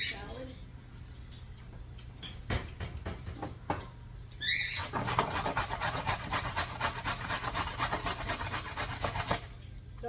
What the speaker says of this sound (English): I'm going to grate the carrot.